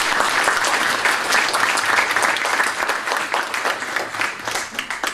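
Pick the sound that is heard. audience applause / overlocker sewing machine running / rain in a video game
audience applause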